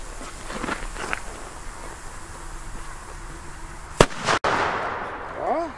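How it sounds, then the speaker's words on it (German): A Sauer Kanonenschlag firecracker goes off outdoors with one sharp, loud bang, followed by a short echoing tail; faint background noise and a few distant voices precede the blast. "Der Sauerkanonenschlag mit Wirkung"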